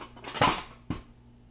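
A thin stainless steel camping pot clanks and rattles as it is handled, with a cluster of light metallic knocks followed by one sharper clink, close and alone.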